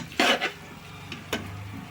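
Mutton for dum biryani being stirred with ground masalas, a couple of short scraping, clattering strokes of a utensil against the pot, close and moderately loud over a low simmering background.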